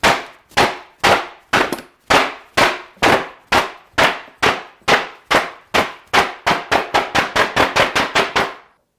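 A fist pounds repeatedly on an LG laptop's magnesium alloy top panel, about twenty sharp, loud, close thumps that start spaced out and speed up into a quicker run toward the end.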